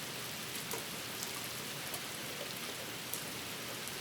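Steady rain falls outdoors in an even, dense hiss with scattered droplet taps, continuous and moderately quiet, with no voices.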